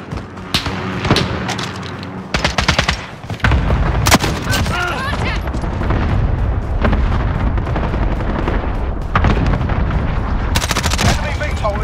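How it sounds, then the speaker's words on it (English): Heavy video game battle with loud, dense gunfire and repeated booming explosions from an allied cluster strike, sustained and close throughout, with a radio-style voice announcing game events over the din. "Allied cluster strike inbound."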